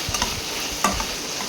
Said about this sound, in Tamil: நல்லா வதக்குங்க, தண்ணி போகிற அளவு நல்லா வதக்குங்க.